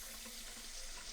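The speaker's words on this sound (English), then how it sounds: "you want to make sure you want to turn the water on" Water runs steadily from an RV faucet while the hot water tank refills, a continuous faint hiss and splash with no talking.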